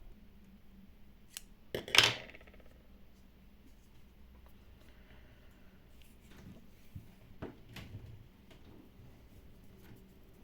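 Scissors cut crochet yarn in a single crisp, close snip early on, followed by quiet, faint handling noises.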